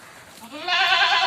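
A goat bleats once, a wavering, drawn-out cry rising to full loudness near the end, close by.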